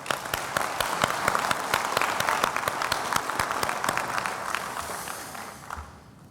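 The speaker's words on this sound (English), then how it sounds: "Let's give her another round of applause." Audience applause at a university summer graduation ceremony, a dense steady wash of many hands clapping that carries on for several seconds and then thins and fades toward the end.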